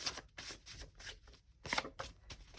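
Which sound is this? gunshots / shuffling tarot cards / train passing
shuffling tarot cards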